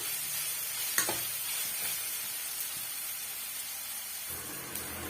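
Snake gourd sautéing in a pan for shallow-fried snacks gives a steady, close frying sizzle and hiss, with a few soft stirring knocks and scrapes and no talking.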